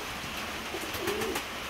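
Soft, low cooing of pigeons close by, a brief rolling call over a steady background hiss.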